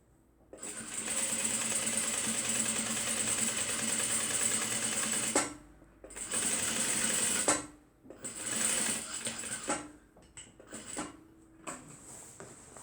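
A sewing machine backstitches a tote bag, running in a long continuous burst, then a shorter one, followed by several brief stop-start stitches with quieter handling between, heard close with no talking.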